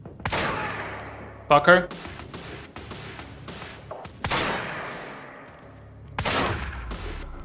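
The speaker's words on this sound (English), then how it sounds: "Semi-auto shotgun." Semi-auto shotgun blasts in the game Quantum Break, a few loud sharp reports spread through combat with other gunfire, while someone talks over the action.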